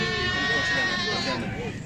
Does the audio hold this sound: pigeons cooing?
no